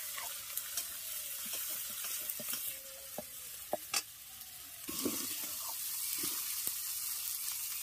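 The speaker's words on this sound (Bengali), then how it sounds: "এবার আদা বাটাটাকে আগে হালকা ভেজে নেব" Ginger paste with a pinch of turmeric frying in hot oil, a constant hiss of sizzling broken by scattered spatula scrapes and taps against the pan, close, with the sizzle swelling louder partway through.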